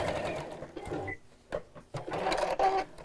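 A Singer domestic sewing machine stitching in a home sewing setting, its mechanical whirring running in short bursts with brief pauses between, close and moderately loud, with no talk over it.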